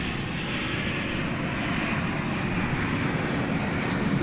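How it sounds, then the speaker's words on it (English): An American Airlines Airbus A321 arrives at DFW Airport at night, its engines giving a loud, steady, broad roar that holds evenly throughout. "it's an Airbus A321 arriving from Seattle"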